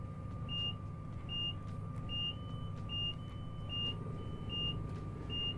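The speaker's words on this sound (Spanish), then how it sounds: "Está sonando una alarma, ahí está." A warning alarm in a train simulator game beeps in a steady, evenly spaced series over a constant low engine rumble, with a faint steady tone under it.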